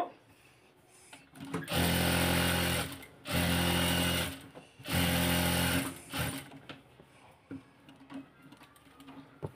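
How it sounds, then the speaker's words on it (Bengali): Sewing machine stitching a kameez along marked lines, three loud runs of rapid mechanical whirring about a second long each, separated by quiet pauses and softer handling clicks. "তো এই দাগে দাগে এখন সেলাই করব।"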